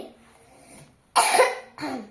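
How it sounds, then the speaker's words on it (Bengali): A person coughs with a sore, irritated throat: a quiet breathy lead-in, then two loud, harsh coughs close to the mic, separated by a short gap. "আমার গলাটা একটু কাশি আছে আর গলাটাও ব্যথা"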